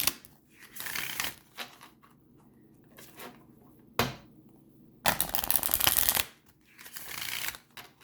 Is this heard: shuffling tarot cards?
yes